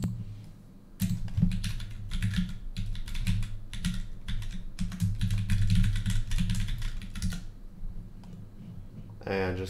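A command is typed at a computer keyboard, a close run of rapid clattering keystrokes lasting several seconds, with a voice speaking briefly.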